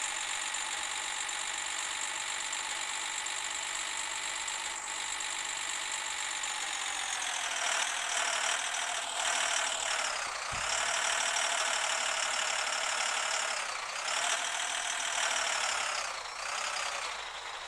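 A steady tractor engine in a video game drones continuously with a buzzy, mechanical tone, its pitch dipping and rising a few times as it revs.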